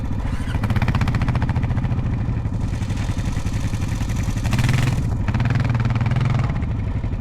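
An ATV stuck in a sand hole at the Sandlake dunes, its engine held at a steady, loud, rough drone with slight rises and a clattering edge, close by and continuous throughout, with no voices.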